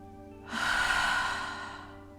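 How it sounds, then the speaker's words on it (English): A single slow, deep exhale through the mouth during meditative breathing, close and breathy, swelling quickly then fading over about two seconds in a quiet room. "A breath comes in through your nose. We pause and exhale through our mouth."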